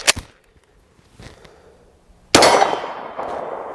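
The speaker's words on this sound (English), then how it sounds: "Now, I want to go ahead and hit it with a 9mm out of the Glock 19X, and this is a 147 grain LAX ammo, subsonic." A subsonic 147-grain 9mm round from a Glock 19X strikes a riot shield: a faint early shot and a quieter knock come first, then one sharp loud crack with a metallic clang that rings and decays over the final second.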